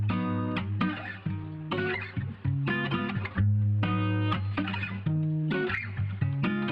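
An electric guitar plays a melodic line of distinct notes and short phrases, moderately loud, with bends and slides between notes.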